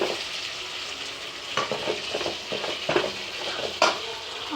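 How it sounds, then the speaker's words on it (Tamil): Grated coconut fries in a pan for peanut chutney, a soft steady sizzle broken by several scraping stirs and light clinks of a spoon against the pan, with no voices. "இதுக்கு தேவையான தேங்காய் போட்டு நல்லா ஃப்ரை பண்ணிட்டு"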